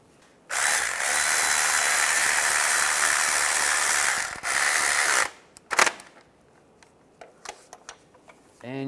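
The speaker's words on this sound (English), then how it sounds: "you can torque those starter bolts to 30 foot-pounds" Ratchet working on starter bolts of a 2005-2010 Chevy Cobalt, a loud continuous ratcheting buzz lasting several seconds, briefly paused, followed by scattered clicks and light handling noises.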